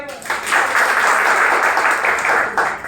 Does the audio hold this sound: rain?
no